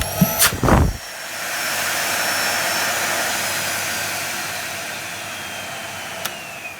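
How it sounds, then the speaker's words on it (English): A Miele S3 vacuum cleaner with no dust bag fitted switches on after a couple of sharp clicks, its motor rising into a loud, steady, high-pitched whine that runs on alone and close. "So yeah, it resembles a modern Miele motor."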